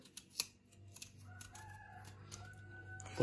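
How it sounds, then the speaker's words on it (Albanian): A rooster crows nearby in a quiet domestic setting, one drawn-out, moderately faint call rising over soft background hum, with a couple of short clicks before it and no speech. "Edhe këtu ka gjel."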